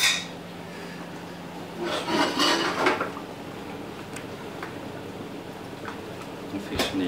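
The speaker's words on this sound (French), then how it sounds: "Et maintenant, on va cuire l'œuf. Donc on a l'œuf, donc on va mélanger l'œuf." An egg whisked in a bowl for okonomiyaki, making a soft, steady rubbing and scraping with brief rattles of the utensil against the bowl, close up, with quiet spoken bursts in the background.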